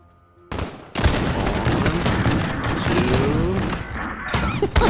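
Dual-wielded guns in a video game let off a burst of loud, rapid gunfire that runs almost continuously for several seconds after a short quiet opening.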